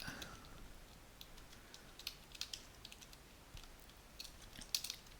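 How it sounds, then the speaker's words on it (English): Quiet, irregular key clicks from typing on a computer keyboard while coding, soft patters with a few sharper taps, no talking. "So this is just going to be a lot of typing now"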